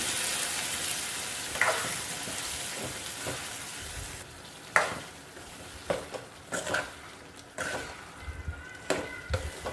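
Tomato chutney with turmeric, salt and garlic cooks in a pan, sizzling softly beneath repeated close scrapes and knocks of a spoon stirring the mixture, heard alone without talk.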